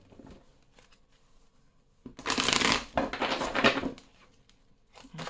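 A deck of oracle cards of the mirrors being shuffled in a burst of dense papery riffling lasting about two seconds, close and fairly loud, followed by softer card handling.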